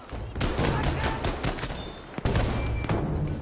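M1 rifle fire in a wartime video game: a rapid string of loud cracking shots near and far, crowded with battle noise, and a person talking over the gunfire.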